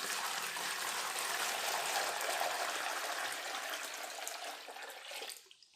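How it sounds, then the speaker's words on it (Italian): Leftover water from recycled paper pulp is poured from a basin through a small strainer into a bucket: a steady, close splashing stream that tapers off and stops at the end. "Quel poco che rimane nella bacinella lo verso direttamente nel secchio, facendolo sempre filtrare dal colino"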